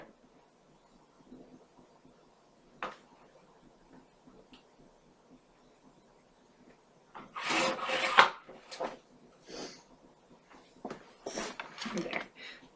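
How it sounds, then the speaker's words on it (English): Paper is trimmed for a CartaBella fall mini album. Quiet scattered scrapes give way to a cluster of louder rasping cuts and a few more short strokes near the end. "And I am going to trim mine just a hair."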